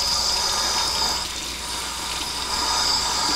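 Warm water runs steadily from a kitchen sink tap in a continuous hiss and splash, up close, with no talk.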